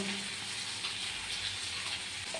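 Chicken skin fries in oil with ginger, garlic, green chili, cumin and coriander, giving a steady, dense sizzle that holds at an even level the whole way through.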